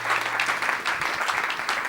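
Church congregation at a prophetic service applauding together, a steady dense wash of clapping that fills the whole stretch at close range with little variation.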